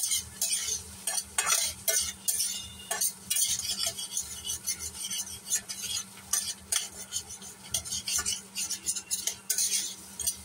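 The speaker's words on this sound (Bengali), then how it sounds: "পনিরটা ভাজা হচ্ছে" Paneer fries in a pan with a steady sizzle, while a utensil scrapes and clinks against the metal in repeated close stirring strokes.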